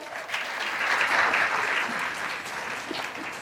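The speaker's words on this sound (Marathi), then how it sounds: "तर जोरदार टाळ्या." Audience at a women's empowerment event clapping loudly together, a dense burst of applause that swells and then slowly fades.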